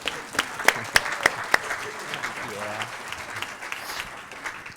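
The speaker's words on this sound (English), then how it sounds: "Let's give them all a round of applause." A graduation ceremony crowd applauds, beginning with several sharp, loud claps close by and then settling into a softer, continuous patter of clapping from the hall.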